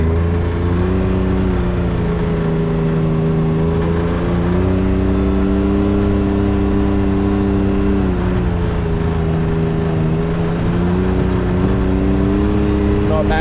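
A Can-Am X3 side-by-side with a spooled front differential drives in high gear, its engine giving a steady loud drone with slight rises in pitch as it picks up speed, while people talk over it.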